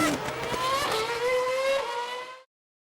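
Race cars in an Indian eRacing Championship sim racing event, Volkswagen cars, brake into Stoke Corner and rev hard back out, a loud, close, rising engine whine for about two and a half seconds before cutting off.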